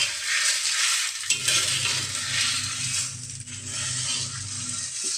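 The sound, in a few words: dry-roasting idli podi spices with salt in a pan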